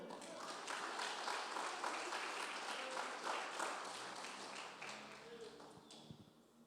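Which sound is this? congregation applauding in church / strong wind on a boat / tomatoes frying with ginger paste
congregation applauding in church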